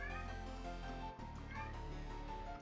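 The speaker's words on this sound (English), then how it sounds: "He meow. Why is he meowing?" A cat meowing: a sustained, tonal, whining cry that breaks off briefly and then resumes, heard faintly with no one talking over it.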